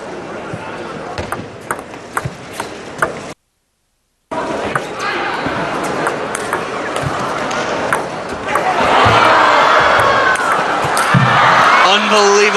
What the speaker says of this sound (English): You can hear the masculine voices again cheering for Xu Xin, trying to compensate for all the teenage girls screaming for Zhang Jike.